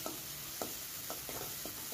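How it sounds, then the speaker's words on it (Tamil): Chopped tomato sautés in a pan for an ivy gourd stir-fry, a faint, steady frying sizzle with a few soft scraping stirs, close and without voices. "இந்த தக்காளியும் நல்லா வதங்கட்டும்."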